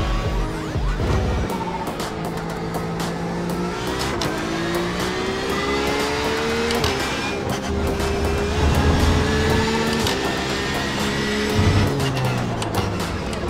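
A Porsche in a sim racing game slides with a loud, continuous engine drone whose pitch rises and falls, mixed with tyre squeal and skidding noise, with no talk over it.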